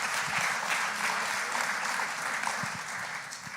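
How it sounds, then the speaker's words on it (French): An audience applauds volunteers at a church gathering with steady, dense clapping that holds at an even level throughout, close and full, with no voices standing out. "on les applaudit, on les applaudit"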